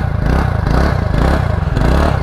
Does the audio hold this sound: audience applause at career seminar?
no